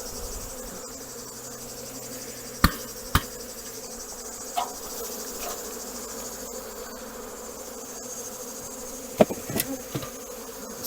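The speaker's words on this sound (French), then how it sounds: "il y a des abeilles à secouer." Honeybees buzzing around beehive frames being shaken out while colonies are combined before wintering, a steady droning hum with a few sharp knocks and thumps from handling the frames.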